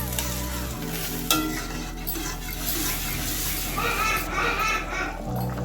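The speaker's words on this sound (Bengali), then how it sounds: "এখন আমি ভালো করে মিশিয়ে নিয়ে আমি জাল করে নেব।" Cauliflower curry with water added simmering in a pot while being stirred, scraping spoon strokes over a steady bubbling sizzle, with children's voices faintly in the background.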